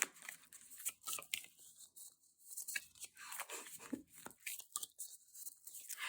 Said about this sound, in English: what's with the shuffling?